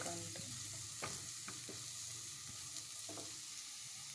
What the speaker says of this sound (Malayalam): സവോള വഴറ്റിക്കൊണ്ടിരിക്കുന്നു.